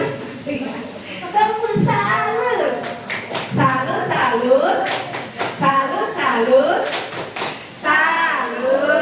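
A group performing the 'tepuk salut' rhythmic clapping chant together, with short patterned claps mixed with loud chanting and spoken voices throughout.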